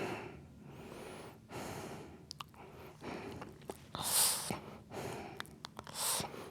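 During yoga practice, deep breaths come in and out in slow, uneven pulses, with audible inhales and exhales up close and a few sharp sniffing or clicking sounds between them.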